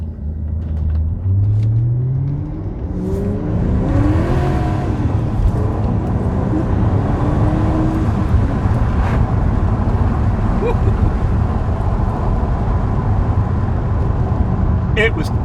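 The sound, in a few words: BMW E63 650i manual car revving and accelerating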